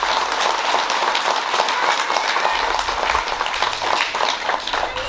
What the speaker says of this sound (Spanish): Les pido un fuerte aplauso para todos ellos.